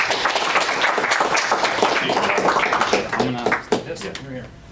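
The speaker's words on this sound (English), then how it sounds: "round of applause for Jason and the event" Audience at a small business conference clapping under a speaker's voice, a moderate round of applause mixed with talk throughout.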